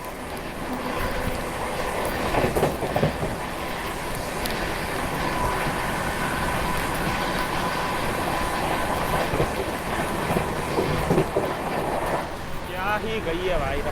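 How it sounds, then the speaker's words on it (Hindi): A Howrah Jodhpur Superfast Express rolls past slowly, a steady loud rumble of wheels and coaches lasting throughout with faint clatter, while someone talks over it. "जोधपुर सुपर फास्ट एक्सप्रेस की क्रॉसिंग होने वाली है"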